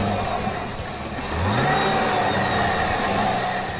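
A 2011 Cadillac CTS-V Coupe's 6.2-litre supercharged 556-horsepower V8 idles with a low rumble, then revs up partway through and holds a louder, higher engine note. No one speaks.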